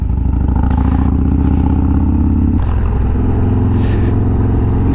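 Harley-Davidson Sport Glide motorcycles with Milwaukee 8 engines ride along, a loud, close, continuous engine rumble with throttle changes and a sudden shift in tone partway through, heard without talk.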